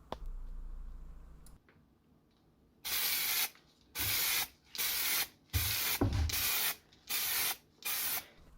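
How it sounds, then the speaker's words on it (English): Motip aerosol primer hisses in short bursts onto metal Tiger tank hull parts inside a box, about six loud, steady sprays with brief pauses between them, after a quieter lead-in with faint background hum. "Now don't spray it thick the first time, just do it layer at a time"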